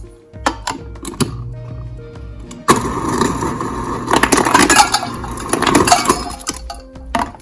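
Ice cubes clatter out of a new Samsung refrigerator dispenser in a home kitchen after a motor whirs, a loud rattling burst of clinks lasting several seconds.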